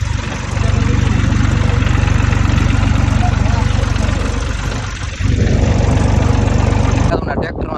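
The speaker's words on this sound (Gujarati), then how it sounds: "હજી આમ ટ્રેક્ટર હાલે જ છે." A farm tractor engine runs steadily nearby with a loud, even low rumble that dips briefly before picking back up.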